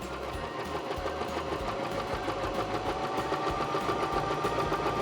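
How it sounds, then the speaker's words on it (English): A Baby Lock Zest sewing machine stitches a zipper into fabric, a steady, fast mechanical whir and needle chatter running close and continuous without pause. "here we go, stitching down the second side"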